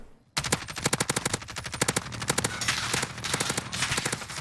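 Rapid automatic gunfire in a video game rattles off in dense bursts at an enemy and his quad bike, loud and close, with brief gaps between volleys.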